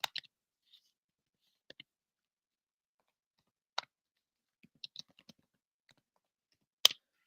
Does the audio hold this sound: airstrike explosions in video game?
no